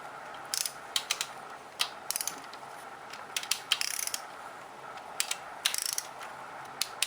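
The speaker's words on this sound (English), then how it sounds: "The smaller bearing caps need a 10mm socket on your inch-pound torque wrench." Torque wrench ratchet clicking in short bursts while tightening the small camshaft bearing caps on a Toyota 1ZZ-FE engine from an 8th generation Corolla, crisp and close in a quiet space.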